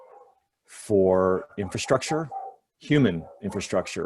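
Dogs bark faintly in the background of a home setting while a person talks steadily in the foreground.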